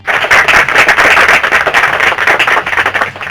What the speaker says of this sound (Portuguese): os aplausos começam